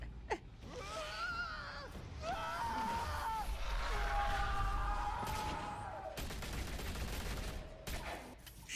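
Gunfire in a Batman video game, bursts of shots mixed with pained gasps and groans from game characters, mid-level and busy over a continuous game soundscape.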